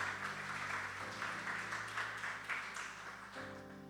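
Church congregation applauding, a steady wash of distant clapping with a sustained tonal drone running underneath, fairly faint.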